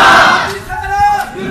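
A crowd of supporters loudly chants slogans at an emergency press conference held by Saira Afzal Tarar and Dr. Muzaffar Ali Sheikh, many voices shouting together in a sustained, rising and falling roar that is close and dense.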